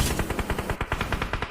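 Rapid automatic gunfire in the mobile shooter BGMI, a fast even burst of about a dozen sharp shots, loud and close with no talk over it.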